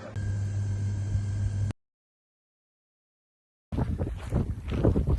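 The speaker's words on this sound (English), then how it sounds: "So it's really windy" Strong wind gusting along the Camino Frances between Boadilla and Calzadilla de la Cueza, buffeting loudly at close range in two bursts separated by a short silent gap.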